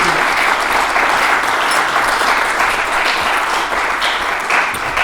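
Steady applause from an audience at a Masonic lodge gathering after a history presentation, a dense wash of many hands clapping that holds loud and even throughout.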